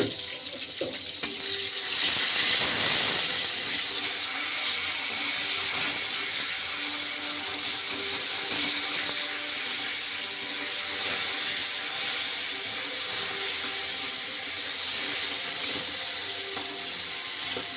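Tomato added to a hot pan for Bengali rohu fish curry, a loud, steady, close sizzle and hiss that runs unbroken throughout.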